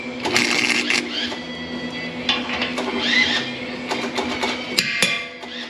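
A welder lays tack welds on a Corsa exhaust for a Chevy Tahoe 5.3, a loud, steady crackling buzz that runs throughout with short sharp pops, close up and without talk.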